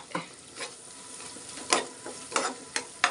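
Ginger garlic paste frying in oil with softened onions for a brinjal and egg curry, a low steady sizzle broken by several quick spatula scrapes against the pan, close and with no one talking.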